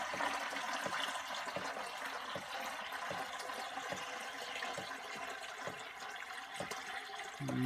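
Water slowly filling a jug during a 3D-printed chain strength test, a steady faint trickling stream with soft rhythmic pulses throughout, no voices.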